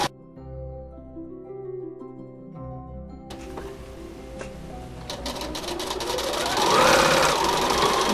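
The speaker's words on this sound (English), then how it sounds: "I'm just going to stitch the seam up" A domestic sewing machine running a stretch stitch along a shirt seam, starting after a quiet hum, then a steady rapid mechanical whirr and clatter that grows louder toward the end.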